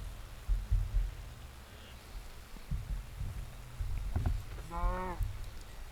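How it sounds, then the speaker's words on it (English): Cow in the video game Minecraft lets out a single low, harmonic moo near the end, preceded by soft thuds and faint background rain-like ambience. "And there are some cows over here"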